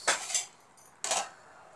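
A metal lid is set onto a cooking pot of nathili curry with two quick clinks, followed by a second sharper clatter as it settles, close and clear in a quiet kitchen.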